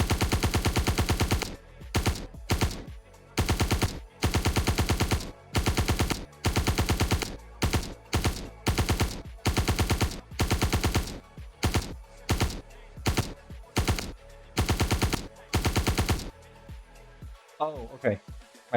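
Loud, rapid automatic bursts from the Orc-MkX armor's weapon in VRChat, about a dozen evenly spaced volleys of fast repeated shots separated by brief pauses, ending in a short electronic whir.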